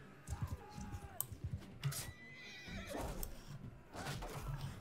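A horse in the video game Mount & Blade 2 Bannerlord whinnies, with a few shrill neighs mixed with clip-clopping hooves and other battle noise, close and fairly quiet.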